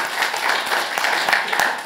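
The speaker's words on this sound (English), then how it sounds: "I think everyone needs to applaud that" An audience at a New York City speaking event breaks into applause, a steady wash of many hands clapping, fairly close and continuous for a couple of seconds.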